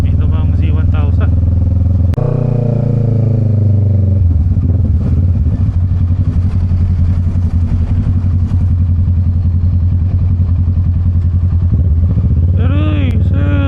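Kawasaki Z1000 motorcycle cruising on an expressway, its steady engine drone and wind rumble continuous throughout, with a brief rev surge near the start and voices talking over it.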